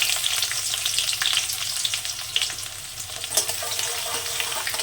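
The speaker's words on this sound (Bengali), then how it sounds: "পেঁয়াজটাকে একটু ভেজে নেবো আমি হালকা লাল করে" Chopped onions with cumin seeds frying in a pan, a steady close crackling sizzle with occasional stirring scrapes throughout.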